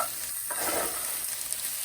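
Vegetables for Punjabi samosas being stirred in a pan to coat them with a spicy mix, a brief close sizzle with soft scraping, no voices.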